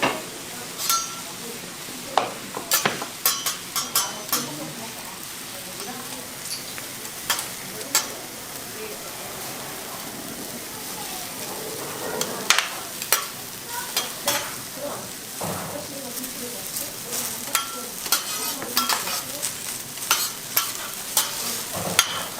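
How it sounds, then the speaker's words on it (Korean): Pork belly sizzles on a huge billiard-table-sized iron griddle, a dense crackling fry broken by frequent sharp metal clinks and scrapes of utensils, loud and close throughout. "고기 맛있게 구워 드리겠습니다"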